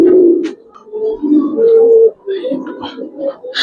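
Giribaz pigeons at a pigeon farm coo in close, repeated low throaty phrases, with a voice breaking in briefly between calls.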